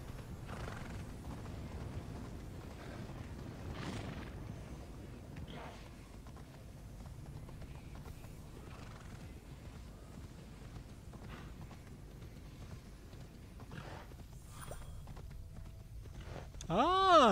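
Hooves clip-clop steadily under a horse ridden in the video game Immortals Fenyx Rising, with a sharp whinny at the end, all faint beneath someone talking.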